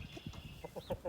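Backyard chickens cluck in a quick, soft burst of short, close calls outdoors near a garden.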